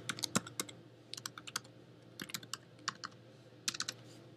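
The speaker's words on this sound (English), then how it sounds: "We're going to type this in as" Typing on a computer keyboard: irregular bursts of close, light key clicks with short pauses in between, quiet and with no talking.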